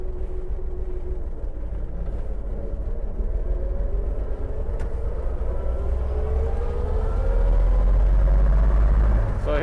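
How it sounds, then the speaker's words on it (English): A 1938 Chevrolet pickup truck drives along with a steady low engine rumble, its pitch rising and falling through gear changes as it is double-clutched while shifting up, growing louder toward the end. "I've had to double clutch it a couple of times, shifting up."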